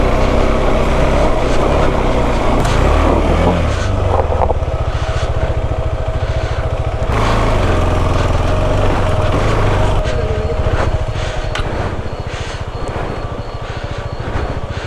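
A BMW F 900 motorcycle engine runs steadily at idle on a night trail ride, close and loud, with a constant low throb and faint voices in the background.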